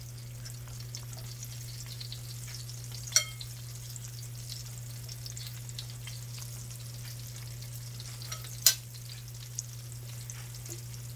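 Breaded cauliflower steaks frying in a pan give a steady, even sizzle throughout, with two sharp clicks or taps partway through and no talking.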